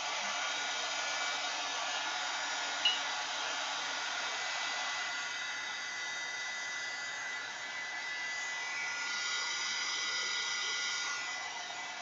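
A handheld dryer blows to dry paint on a mixed-media art journal page, a steady airy roar close to the mic that runs unbroken for about twelve seconds, with one brief small knock early on.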